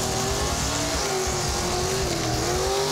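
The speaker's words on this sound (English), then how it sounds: "Yeah, nice burnout." Drag race car doing a burnout at a drag strip, a sustained loud roar of engine and spinning tires with a steady high whine, heard from a distance without talk.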